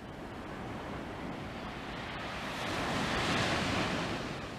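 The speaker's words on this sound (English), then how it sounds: "This is Jabaquara Beach." Ocean surf and wind at Jabaquara Beach on Ilhabela, Brazil, a dense continuous wash of breaking waves under steady wind buffeting, swelling slightly louder near the end, with no one speaking.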